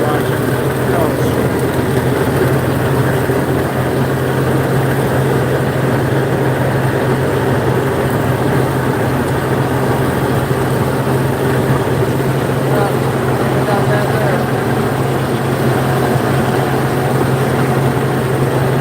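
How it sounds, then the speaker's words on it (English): An old-style tractor engine drones steadily while mowing a back field, a continuous low hum with a strong low tone running unbroken at close range. "a guy mowing a field on an old style tractor"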